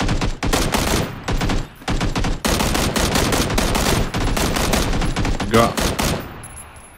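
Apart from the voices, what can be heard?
gunfire from a video game, PUBG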